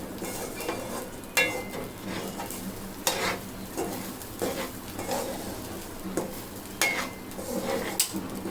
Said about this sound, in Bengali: ভালো মতন ভাজা ভাজা করে নিতে হবে।